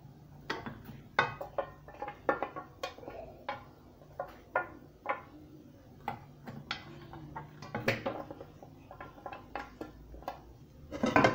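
Sliced onions are dropped and spread into a metal baking tray, giving a series of light irregular clinks, taps and rattles, close and fairly quiet with no talk.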